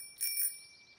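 A single bright, ringing ding of a bicycle bell, clear and close, fading quickly into quiet.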